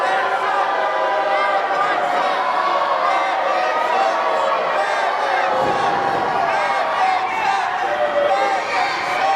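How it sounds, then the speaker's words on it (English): A wrestling crowd at a BRCW Summer Smash show jeers Steve Maclin, a loud, sustained roar of booing and shouting voices filling the arena with steady intensity throughout. "the crowd really letting Macklin have it"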